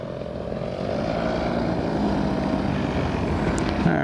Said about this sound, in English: See, as I let the elevator out, the plane speeds up.